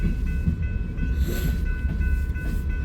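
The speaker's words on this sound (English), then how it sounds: "BNSF gondola with steel in it." A BNSF freight train rolls through a rail yard at night, a gondola car loaded with steel passing close by with a steady low rumble and faint wheel clatter.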